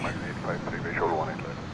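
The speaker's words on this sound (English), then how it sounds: "here goes the Delta Jet to LGA." A Delta jet departs a runway at DFW airport with a low, steady rumble of engine noise underneath a person talking nearby.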